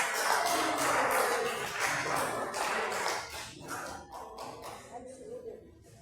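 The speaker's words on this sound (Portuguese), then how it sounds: "Vamos receber o servo do Senhor com as palmas bem alegres." A church congregation claps to welcome the preacher at a worship service, a loud wash of rhythmic hand claps that thins out into scattered sharp claps and then fades, with voices underneath.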